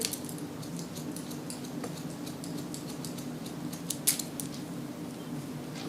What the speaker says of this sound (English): It's nice for on top of point cutting like I just did here.